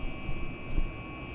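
Steady, constant engine drone inside a Boeing 737 MAX 8 cockpit in the X-Plane 11 flight simulator, with a faint high tone running throughout.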